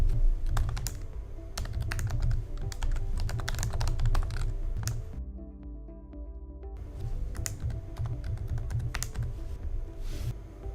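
Rapid keyboard typing clatters steadily for several seconds, breaks off briefly, then resumes with dense, close keystrokes, entering login details on a computer.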